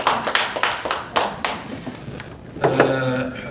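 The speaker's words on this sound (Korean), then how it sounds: "박수로 환영하겠습니다" A church prayer-meeting audience at a commemorative ceremony gives brief applause to welcome a pastor to the stage, quick claps that fade out before a short voice enters near the end.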